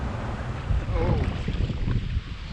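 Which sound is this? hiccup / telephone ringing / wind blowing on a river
wind blowing on a river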